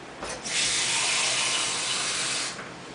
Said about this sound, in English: So put some water in here.